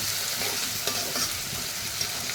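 Fish frying lightly in a pan gives a steady, close sizzle and hiss with faint stirring scrapes, with no one speaking.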